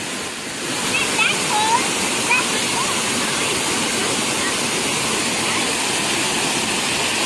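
Aguinid Falls in Samboan, Cebu, a steady, broad roar of falling water filling the whole scene, with faint voices underneath.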